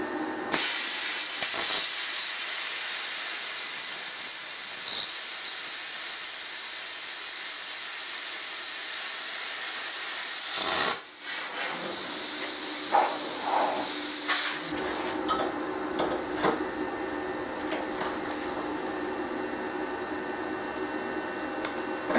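A plasma cutter slicing through 5–6 mm steel gives a loud, continuous harsh hiss for about eleven seconds, a brief break, then sputtering, crackling cutting noise with a few knocks.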